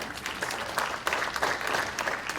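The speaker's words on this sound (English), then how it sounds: "if we could give him a round of applause for being here" An audience applauds the mayor of Mahwah at a public forum, a short, even stretch of many people clapping together, moderately loud with a few sharper claps.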